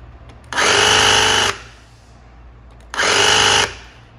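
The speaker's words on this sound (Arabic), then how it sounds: "خلال الضغط على زناد التشغيل اقدر اتحكم في تغيير السرعة." Makita HR003G 40V cordless rotary hammer run in two loud, close bursts of steady motor whine, each about a second long with a short pause between, alone with no talk.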